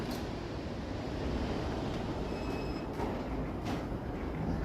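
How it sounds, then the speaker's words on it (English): A GO commuter train passes through a Toronto station, a steady loud rumble of rolling railcars with faint high wheel squeals, no voices. "It's because of all the GO trains"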